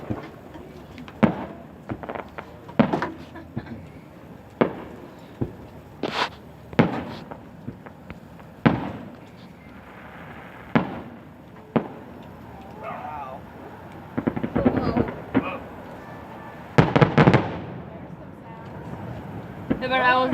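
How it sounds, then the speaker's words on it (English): Fourth of July fireworks bursting over a deck, a string of sharp, separate bangs and pops at irregular intervals, some near and loud, with people talking and reacting between the blasts. "There's only one thing that's more spectacular than fireworks"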